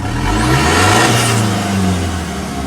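A Ford 2.2 diesel engine, freshly repaired after injector work, revs up loudly and steadily close by, its smooth rising and falling drone filling the whole stretch with no voices.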